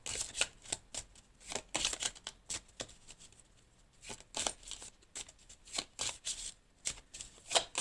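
Tarot cards are shuffled by hand in close, soft riffling bursts, a series of papery flutters and slaps with short pauses between them.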